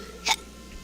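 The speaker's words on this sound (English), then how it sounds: "I have the hiccups." A single short hiccup from a person during a Magic card game stream, a quick sharp burst against a quiet background.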